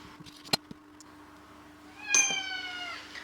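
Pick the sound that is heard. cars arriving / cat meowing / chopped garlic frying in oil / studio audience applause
cat meowing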